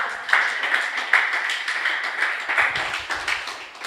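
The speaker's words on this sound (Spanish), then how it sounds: "Denle un aplauso al Rey de la Gloria." A church congregation applauds during a sermon, scattered clapping from a group of hands heard at a moderate distance in a reverberant hall, steady and somewhat faint.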